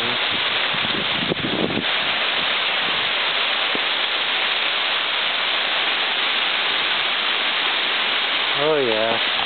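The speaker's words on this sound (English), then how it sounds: "getting pummeled by strong wind. Heavy rain and hail." Heavy rain and hail driven by strong wind, a dense steady roar with gusty buffeting across the microphone, briefly joined near the end by a higher wavering tone.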